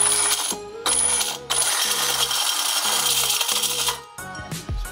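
A homemade 1800 W brushless electric scooter motor, driven by a servo tester through an ESC, whirs and revs with mechanical rattling, stepping through several pulsing bursts before winding down near the end.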